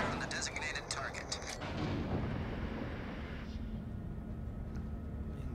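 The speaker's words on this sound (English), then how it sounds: "All stations requesting fire on the designated target." The main guns of the US battleship North Carolina fire in World of Warships with a heavy, deep boom and then a long rolling rumble that slowly dies away, loud and close over the steady ambient hum of the battle.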